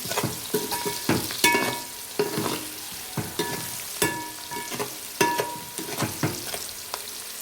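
Chicken curry sautés in a pan while being stirred, with quiet background sizzling broken by repeated sharp scrapes and clinks of the spoon in an irregular rhythm.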